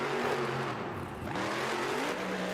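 A stadium monster truck roars through a stunt run at a Salt Lake City arena event, its engine revving and shifting pitch as it races, loud and continuous under distant crowd noise.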